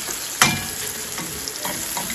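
Red pepper fries in a pan with a steady, bright sizzle, broken early by one sharp clack of a utensil against the pan and a few softer stirring scrapes.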